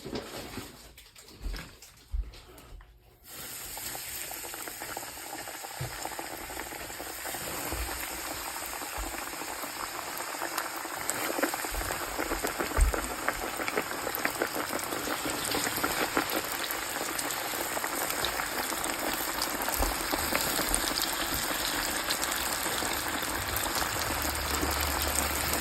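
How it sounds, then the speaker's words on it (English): Fish-fry-coated flounder sizzles and bubbles steadily in hot oil in a skillet at around 350 to 375 degrees. A dense crackling hiss swells after a quieter start and stays loud and continuous throughout. "Drop them in at 350, 375 till they stop bubbling."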